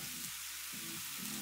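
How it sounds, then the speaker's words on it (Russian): Chopped kimchi frying in a pan, producing a soft, continuous sizzle that is faint and close, with no voices. "Жарим так 2 минуты."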